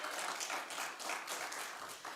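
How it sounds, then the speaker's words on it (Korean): A church congregation at a Sunday worship service in Seoul claps together, a dense, continuous patter of many hands heard from a distance, steady and moderately soft with no speech over it. "박수 한번 칩시다."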